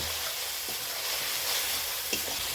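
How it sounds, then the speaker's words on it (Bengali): Ground coriander, turmeric and salt sauté in hot oil, giving a dense, continuous hiss of frying with a couple of faint stirring knocks. "ধনিয়া পাউডার হলুদ আর লবণ দিয়ে দেবো পরিমাণ মতো রয়েছে এখন এগুলো ভালোভাবে কষিয়ে নেব"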